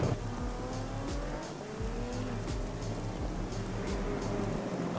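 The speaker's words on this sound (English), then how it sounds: "it is the only place where cars are going to accelerate from an almost standstill" Several race car engines in a racing video game, including Ford Sierras, whine and rise in pitch together accelerating out of a corner from near standstill, with repeated gear-change drops and faint tire squeals, all at a steady moderate distance.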